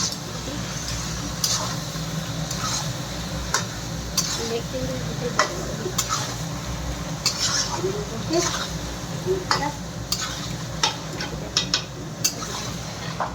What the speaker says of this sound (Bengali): এই যে এর মধ্যে লবণ আর হলদি মাখিয়ে রেখেছিলাম মাংসের মধ্যে, এখন এটা দিয়ে কষি ভালো করে।